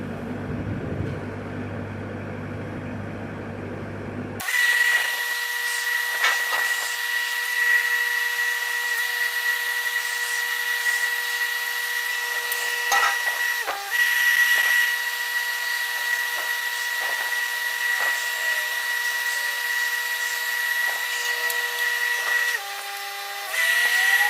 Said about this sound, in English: Now I'm gonna go ahead and weld that side.